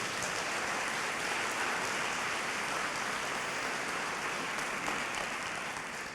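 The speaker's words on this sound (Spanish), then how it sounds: "Den un aplauso al Señor por eso." Church congregation clapping at a sermon, a dense, even rush of many hands sustained for about six seconds at moderate distance, hissing almost like rain, with no one speaking over it.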